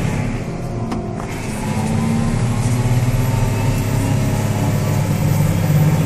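New Holland T7.210 tractor being driven, its diesel engine giving a loud continuous low rumble and drone heard from the cab, steady throughout with a slight rise in intensity after the first couple of seconds.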